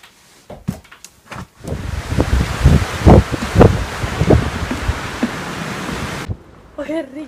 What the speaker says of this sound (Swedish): Åh, herregud vad det blåser.